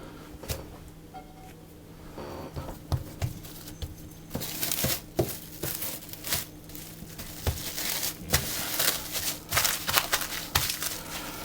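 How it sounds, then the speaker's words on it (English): Plastic wrap crinkles and rustles as it is folded around a disc of tart dough, in irregular bursts of crackling close by, growing busier toward the end. "I'll take another piece of plastic and wrap the second piece."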